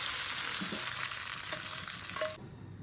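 Steady hissing sizzle of hot tempering oil poured into a pot of lentils with drumsticks, loud and close, with a few clinks, dropping off abruptly near the end.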